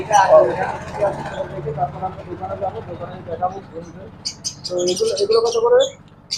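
Pet birds in a bird shop, including parrots, sun conures, pineapple conures and cockatiels, chirp and squawk in short bursts close by, interleaved with a person talking and low traffic rumble.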